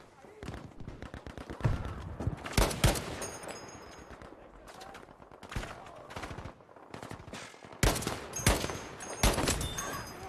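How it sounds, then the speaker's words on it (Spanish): Bursts of automatic gunfire and single rifle shots from the Battlefield V video game crackle in uneven volleys, some loud and close, others lighter, with brief lulls between the firefights. "Tres tiros, tío."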